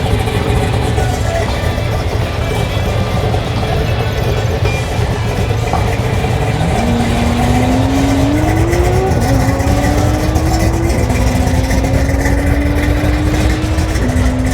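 A car launches down a drag strip, its engine revving hard through a series of rising gear pulls, loud and close amid constant track noise.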